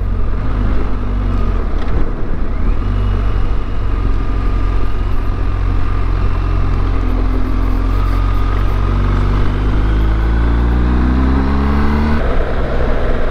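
A BMW R1250GS motorcycle engine drones loudly and continuously while riding, its pitch rising and falling gently as the throttle changes, with heavy wind rumble and no talking.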